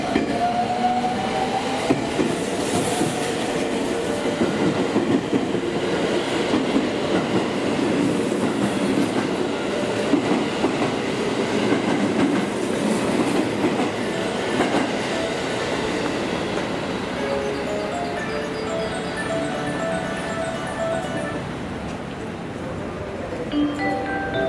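A six-car train arriving at Shin-Imamiya station during weekday evening rush hour, a loud continuous rumble with clattering wheels and squealing, close by, with faint station announcements underneath.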